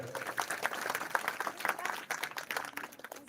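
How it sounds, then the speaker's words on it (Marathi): At an award felicitation ceremony, an audience claps continuously in a dense, fairly even round of applause at moderate distance. "आपण किमान टाळ्या वाजव्यात"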